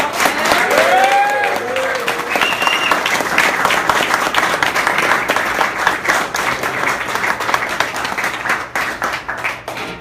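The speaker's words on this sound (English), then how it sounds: "clap your hands one time for the legendary Scott Storch" A crowd at a beat camp interview event breaks into loud, sustained clapping and cheering that lasts the full ten seconds, with a few excited shouts rising above the applause.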